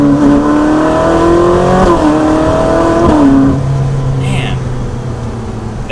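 Ferrari 458 Spider supercar engine revving and pulling hard, a loud, rising howl that shifts pitch as gears change, then settles into a lower drone, heard from inside the car.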